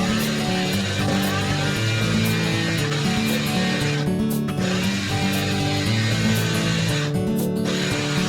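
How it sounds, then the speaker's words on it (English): A lathe turns a valve part for a ported Stage II 4.6L 2V cylinder head, a steady, loud mechanical whir with sustained harmonic tones and brief dips as the cut changes. "stick it in the lathe, and turn that to whatever size I want"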